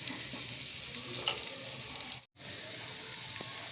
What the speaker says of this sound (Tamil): இது பன்னீர் ஃப்ரை பண்ண போகிறேன்